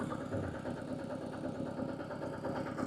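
Tractor engine running close by while digging work goes on, a steady continuous low rumble with mid-range engine hum and no pauses.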